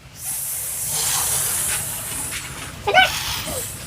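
A person imitates a snake with a sustained breathy hiss, moderately quiet and steady for a few seconds, followed by a short vocal sound near the end.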